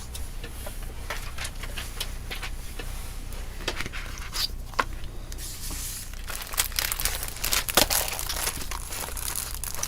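Peel-off backing offcuts from crafting, handled and crumpled close up; steady papery crinkling with sharp irregular crackles and rustles, no talk.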